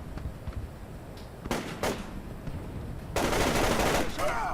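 Enemy gunfire in Splinter Cell: Chaos Theory, a few sharp shots followed by a longer sustained burst, heard under a noisy game backdrop.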